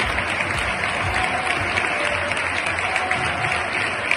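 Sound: stadium crowd applauding football player substituted off

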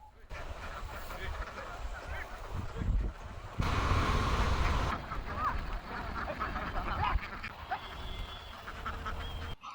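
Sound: ducks quacking

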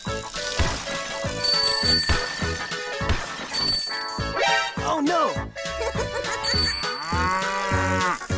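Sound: cow mooing

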